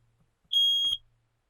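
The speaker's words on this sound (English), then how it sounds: "There you go. Smoke detector works." A smoke detector being tested gives one short, shrill, high-pitched beep of about half a second, loud against a quiet room with a faint low hum.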